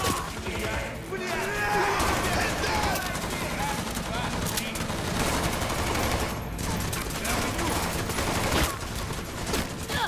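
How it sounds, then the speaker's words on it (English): Gunfire in Cyberpunk 2077 as enemies are shot, dense and continuous bursts of rapid shots with crashes layered throughout, close and loud, with a voice talking underneath. "Shooting enemies, taking cover"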